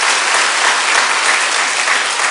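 A church congregation applauds in steady, dense clapping that fills the room throughout, loud and sustained with no pauses.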